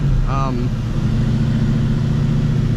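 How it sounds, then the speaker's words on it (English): Whipple supercharged Coyote V8 in a Ford Mustang GT, a steady loud low engine rumble throughout at idle or low revs, with a brief voice near the start. "what it's like living with a Whipple supercharged Coyote motor."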